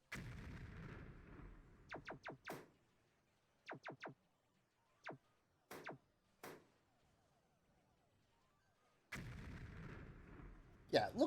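Explosions and impacts from a video game under development, a scattered series of sharp cracks and blasts, some in quick clusters of two or three, separated by near-silent gaps, with a louder burst of noise near the end.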